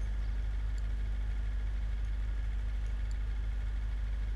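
An armored jeep in Grand Theft Auto V idles with a steady, low engine rumble without a break, even and continuous throughout.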